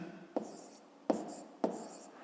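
Pen or chalk marks as someone writes by hand while working a subtraction problem, giving three short scratchy strokes in a quiet room, each a brief stroke followed by softer scraping.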